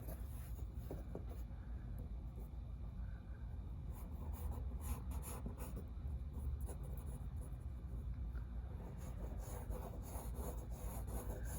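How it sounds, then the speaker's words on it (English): A pencil sketches quickly on paper in a drawing lesson, making a continuous soft scratching and rubbing with short strokes and light taps throughout, close and quiet, with no talking. "Now I'm just doing a quick sketch"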